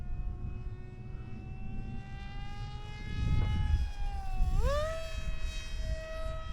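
A FF-Supernova foam RC plane flying at half throttle gives a steady whining motor drone with clear harmonics. Partway through, the pitch sweeps upward sharply as the plane passes nearby, with low wind rumble underneath.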